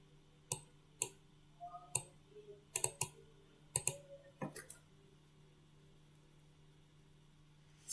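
Computer keyboard keys clicked in short bursts, a handful of crisp separate taps and small clusters over a few seconds, then quiet with a steady low hum underneath.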